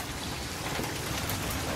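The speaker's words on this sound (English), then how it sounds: "It got pitch black out here and started raining." Steady, heavy rain falls outdoors under a darkened sky, a dense, even hiss that holds at the same loudness throughout with no voices; no distinct thunder stands out.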